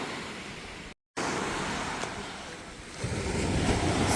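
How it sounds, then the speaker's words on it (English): Small sea waves wash onto the shore at Torquay on a rainy day, a steady broadband surf hiss with wind noise and a slight swell of louder water toward the end. "Some little waves."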